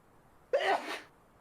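A single sharp sneeze bursts out close by in a quiet room during a tabletop Dungeons & Dragons session, short and loud, with no talking over it.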